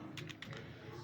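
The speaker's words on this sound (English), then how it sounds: "Guys, I'm typing" Fast light clicks of typing on a computer keyboard, about five quick keystrokes in a short burst, close and fairly faint over a low background hum.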